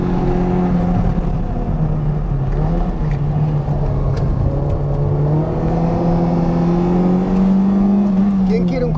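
A classic Ford Fiesta XR2 pulls hard on a fast lap, its engine note climbing steadily and loud from inside the car, with a voice speaking over it.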